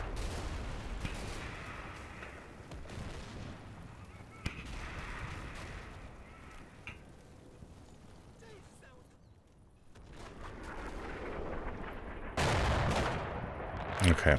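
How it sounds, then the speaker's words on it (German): Russian artillery and gunfire in the video game Combat Mission Black Sea. Scattered booms and shot bursts rumble in clusters, with a quieter lull before louder blasts return, and someone talks over parts of it. "also die Artillerie der Russen liegt nicht gut"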